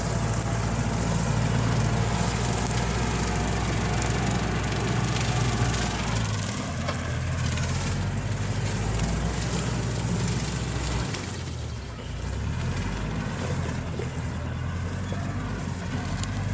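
A steady, loud engine drone of a Kubota L4708 tractor mowing grass in a small palm plantation runs throughout, with a low rumbling motor and a brief dip in level near the end.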